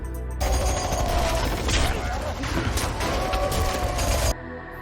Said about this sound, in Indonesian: muncullah si Intel yang menembak secara membabi buta dengan pistol Thompson di tangannya.